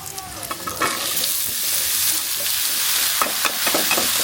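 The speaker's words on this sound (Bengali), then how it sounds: "লবণ আর পেঁয়াজ কাঁচামরিচ দিয়ে লাউটা একটু ভেজে নিচ্ছি" Bottle gourd fries in a pan with turmeric, coriander, cumin, salt, onion and green chilli, giving a steady close sizzle broken by scraping stirs throughout.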